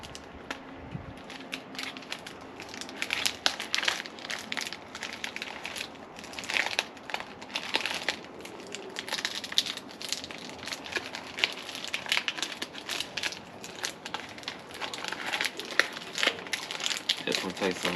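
A bubble-wrapped padded envelope holding fraternity merchandise is pulled open, making loud, irregular crinkling and crushing bursts of plastic and paper up close, running on and off throughout.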